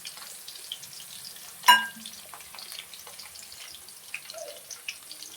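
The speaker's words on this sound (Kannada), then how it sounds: "ಉದ್ದಿನಬೇಳೆ ಕಡಲೆಬೇಳೆ ಎಲ್ಲ ತುಂಬ ಚೆನ್ನಾಗಿ ಹುರ್ಕೊಂಡಿದ್ದೀನಿ" Urad dal and chana dal fry in oil in a pan for chitranna, a faint, sparse crackle and sizzle with one sharp metallic clank of a utensil partway through.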